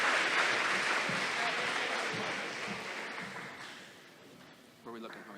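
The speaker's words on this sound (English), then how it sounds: "So let's give one more final round of applause to our 10 Pride Award winners" Middle school audience applauding Pride Award winners at an 8th grade awards event, a broad, steady round of clapping that slowly fades, with voices emerging near the end.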